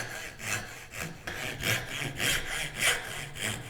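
A hand saw cuts wood for a wooden hinge on a book stand, a steady back-and-forth rasp of about seven strokes in a regular rhythm, close and moderately loud with no talking.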